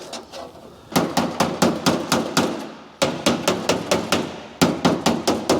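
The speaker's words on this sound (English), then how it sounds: "with my long pick hammer and a light dolly, I can get right in this area from underneath." Rapid metallic long pick hammer strikes with a light dolly ring out in steady bursts, loud and close, with brief pauses between runs of blows on mini truck body sheet metal.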